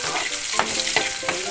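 Cooking oil for pinakbet sizzles steadily in a hot pan, a loud, close, continuous hiss broken by a few soft stirring scrapes, with no talking.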